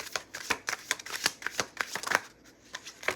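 Tarot cards are shuffled by hand in quick riffling bursts, crisp and close, with a brief pause before the flutter resumes; no talking.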